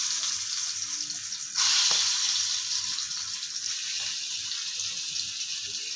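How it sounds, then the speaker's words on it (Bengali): Pointed gourd frying slowly over low heat in a little oil, a steady close hiss and sizzle that holds throughout with a brief louder swell. "আঁচ কমিয়ে কমিয়ে আমি আস্তে আস্তে করে এগুলোকে ভেজে নেব"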